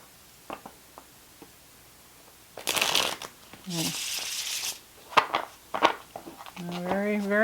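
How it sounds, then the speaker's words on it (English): Infernal Tarot cards, on fairly light cardstock, are shuffled nearby in a few short papery riffles and slides, with soft taps and a voice talking between them. "Try giving this a shuffle here."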